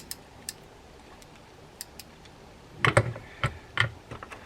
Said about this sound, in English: I have reset the anti-reverse dog. That's why you're hearing it clicking there.